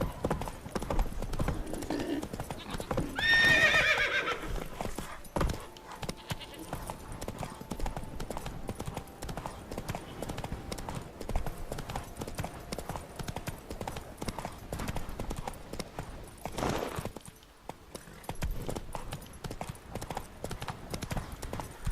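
A horse gallops in The Witcher 3: Wild Hunt, its rapid hoofbeats running steadily through the whole stretch under game sounds, with a brief whinny early on and voices talking now and then.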